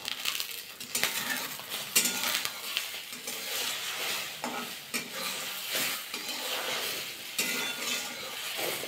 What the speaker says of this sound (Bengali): ডিমটা আমি কিন্তু নাড়াচাড়া কিছু করবো না, হালকা কিন্তু নিচের থেকে একটু ভাজা হয়ে যাবে